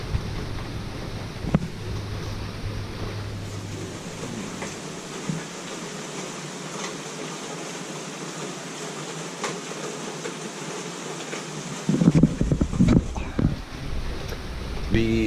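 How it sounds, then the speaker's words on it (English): Wind and rain from Hurricane Florence make a steady, broadband roar with buffeting gusts against the microphone, and a heavier rumble swells near the end. "It's wind and rain."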